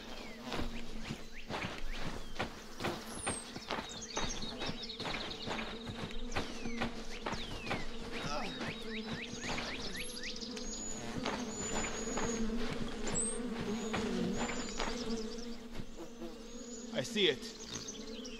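A swarm of bees from a hive in a video game, a dense continuous buzz with many clicks and taps over it and a brief spoken line.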